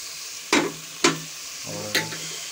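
Spatula stirring spices (tikka masala, salt, crushed red chilli) into Hakka chicken noodles in a frying pan: three sharp scraping clatters about half a second apart, then a softer fourth, over a faint steady sizzle.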